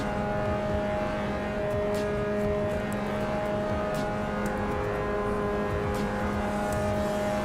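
A race car engine bogging in the Assetto Corsa Evo racing game, holding a steady droning tone with faint ticks above it and no revving, loud and continuous throughout.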